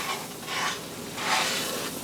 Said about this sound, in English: I'm going to let this bubble for a few minutes.